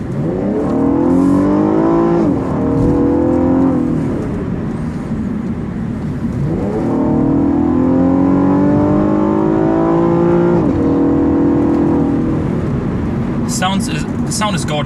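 A 2015 Cadillac ATS Coupe with a 3.6L V6 revs repeatedly, the engine note swelling and falling in long sweeps, loud and close, with a few sharp high chirps near the end.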